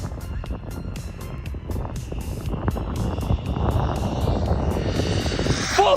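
A Jiusi PT14R RC speedrun truck on a 4S battery runs at full throttle, its electric motor whining high and rising as it accelerates, with rapid repeated ticks and a scrape near the end.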